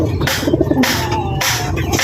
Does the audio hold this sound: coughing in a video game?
no